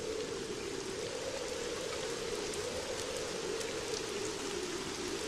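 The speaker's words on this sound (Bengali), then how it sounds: "আর বৃষ্টি থামবার তো কোনো নামই নেই" Steady, dense rain pours down during a storm in a cartoon, a constant even hiss with no pauses and no voices.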